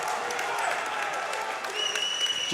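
A home crowd at a boys' high school basketball game, Punahou at 'Iolani, cheers a blocked shot swatted out of bounds with a sustained roar of applause and shouting, with a commentator talking over it.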